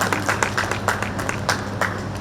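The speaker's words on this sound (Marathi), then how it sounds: "त्याच्यासाठी आधी टाळ्या वाजवा" An audience gathered for a group Hanuman Chalisa recitation claps together in a steady, slightly ragged rhythm, moderately loud and close, with no speech over it.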